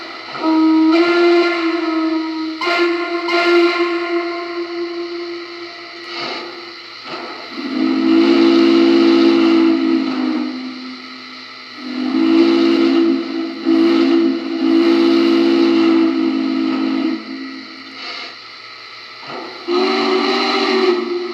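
A deep Norfolk and Western steam whistle hooter on a Lionel model Berkshire locomotive hoots in several long blasts separated by short pauses, loud and sustained, with a rich chord-like tone.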